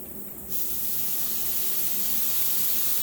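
A sharp hiss of water sprayed onto a hot Blackstone griddle erupts and turns into a steady, loud steaming sizzle.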